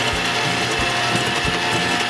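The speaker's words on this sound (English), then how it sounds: "I'm glad we have this mixer" Electric mixer whirring through cookie dough, a continuous loud mechanical drone with a rhythmic grinding pulse, close by and with no voices.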